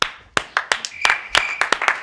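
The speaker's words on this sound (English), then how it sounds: "Can we get some applause, please?" A short burst of clapping played as a sound effect on a comedy podcast show, made of scattered sharp hand claps over a couple of seconds with no voices.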